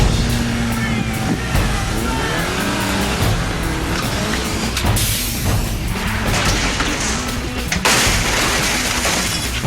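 A stunt car dropped two stories onto a set of catch cars, loud crashing metal and shattering glass amid heavy engine roar and chaotic impacts, with voices mixed into the din.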